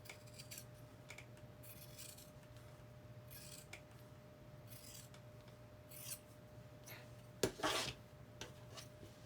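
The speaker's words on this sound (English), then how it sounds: "I'm just going to trim it to the edge of this muslin piece" Scissors cut through a piece of muslin fabric in a quiet room with a steady low hum. Soft, sparse snips are followed by a louder, sharper cut near the end.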